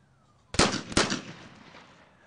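Two sharp shotgun blasts fire about half a second apart during a men's double trap final at an ISSF World Cup in Minsk, each loud crack trailing off into a fading echo with no voices.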